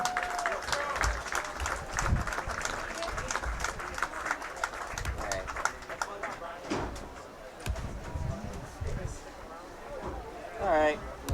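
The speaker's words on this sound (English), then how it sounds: "We want a special round of applause again for our seniors." Crowd applause and cheering in the stands at a high school varsity football game, uneven and moderately loud, with voices talking over and among the clapping.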